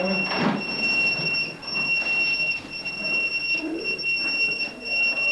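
A fire station alarm sounds as a steady high tone throughout, held under continuous talk and movement from several people nearby.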